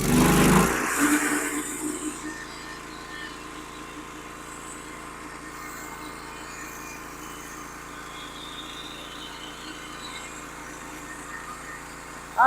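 A sawmill running steadily as its blade takes a thin skim off the top of a pine log, a loud start easing into a continuous even whine and rumble that holds for several seconds.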